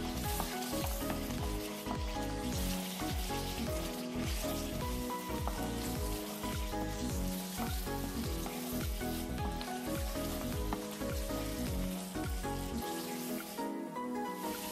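Spice paste for beef rendang sizzling steadily in a pan while being stirred, a dense continuous frying hiss with scraping stir sounds, loud and close throughout.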